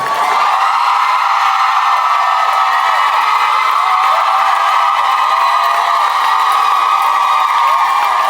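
Musical festival audience screams and cheers at full volume, a sustained, high-pitched wall of shrieking voices that stays loud and constant throughout without any clear break.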